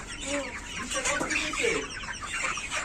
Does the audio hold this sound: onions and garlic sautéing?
no